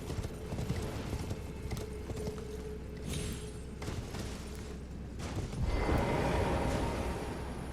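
Horse hooves clatter in a fast, steady rhythm as the horse is ridden across platforms in an Elden Ring-style video game, mixed with dense game noise and mechanical clanks.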